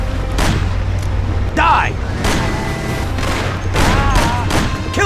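Rapid bursts of gunfire from Mafia: The City of Lost Heaven, loud cracks repeating in clusters over a city street scene, with shouted voices and a squealing car mixed in between the shots.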